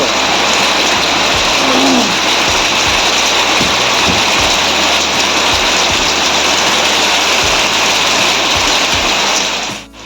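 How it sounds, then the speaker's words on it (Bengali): Heavy rain falling at a home in rural Bengal, a dense, unbroken hiss that stays loud and close for about ten seconds, with a few dull low thumps underneath, then fades sharply at the very end. "দেখো ফের বৃষ্টি হচ্ছে, দেখো একটু জোরে এসছিল"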